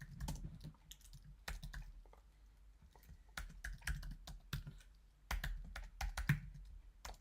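Computer keyboard typing of code, bursts of quick close clicking keystrokes separated by short pauses, alone and fairly quiet.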